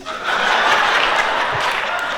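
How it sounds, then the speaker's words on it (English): A comedy show audience claps steadily, dense and loud, with a little laughter mixed in, before the sound levels off near the end. "wait, stop clapping"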